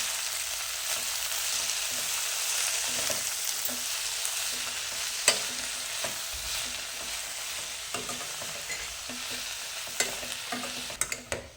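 Chopped fenugreek leaves sautéed in a pan, a steady hiss of frying with scattered light scrapes and clicks of a spatula, busier toward the end.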